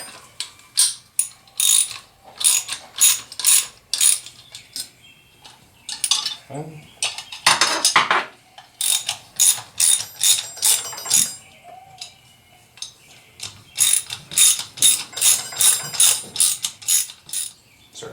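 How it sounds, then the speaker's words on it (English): A socket wrench ratchets while tightening the bolts of a two-piece aircraft wheel, with repeated bursts of loud, close clicking strokes and short pauses between them, plus some metallic clanks. "Use your socket wrench, tighten it up the rest of the way."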